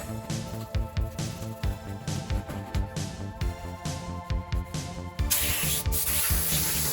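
Wax and grease remover being sprayed and wiped over steel suspension bars of a Fiero during prep, a steady run of short rubbing and spraying bursts, close and fairly loud, ending in a longer continuous hiss.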